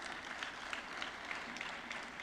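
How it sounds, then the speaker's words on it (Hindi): An audience claps steadily at a national water awards ceremony, the dense, even applause going on throughout with no voices over it. "पहले तो हमारी ज्यूरी के लिए आप सभी की तालियाँ हो जाएँ"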